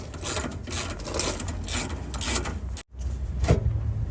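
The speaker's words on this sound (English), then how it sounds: "Next step, I'm going to remove this bolt." A ratchet undoing a 10 mm bolt on a Renault Trafic van, rapid close-up clicking of the pawl in a steady run, a brief pause, then a few more clicks.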